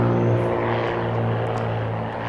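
A Beechcraft Bonanza Pro propeller engine in Microsoft Flight Simulator drones at a steady, loud cruise. The hum is continuous and even, with no voices over it.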